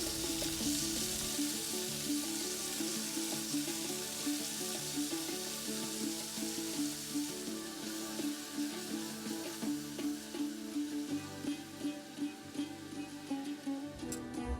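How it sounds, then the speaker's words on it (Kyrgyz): Meat frying in vegetable oil in a cauldron, a steady bubbling sizzle with a soft rhythmic pulse running underneath and no voices. "Андан кийин казанга өсүмдүк майын куюп, алгач этти кууруп алабыз."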